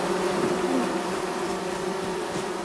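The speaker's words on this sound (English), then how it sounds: "Oh, getting chased by the bees." A swarm of bees in the video game Among Trees makes a continuous, steady droning buzz, loud and close, with no talk over it.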